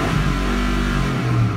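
A 2004 Cadillac Escalade's high-compression 6.0 LQ9 V8 with 186K miles revs hard toward its limiter, a loud, close, sustained engine roar holding high with slight wavering and no voices.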